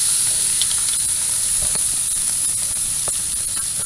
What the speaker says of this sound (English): So got a nice hot grill. And I'm just going to put them on for just to get a little bit of brown on both sides